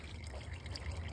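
Dirty electric drive fluid drains steadily from the drive unit of a 2017 Chevy Volt, a continuous close trickle and pour with low rumbling, with no talk over it.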